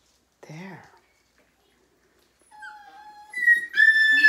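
Puppies from a dog's litter whimper and cry in short high-pitched bursts: one brief whine, a pause, then rising, overlapping cries that grow louder toward the end.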